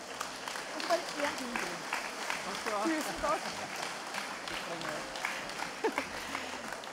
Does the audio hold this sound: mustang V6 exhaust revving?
no